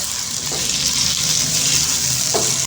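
Onion masala and tomatoes for parda biryani roast in a hot pan with a steady, loud sizzle. The frying hiss stays even throughout, with faint stirring scrapes beneath it.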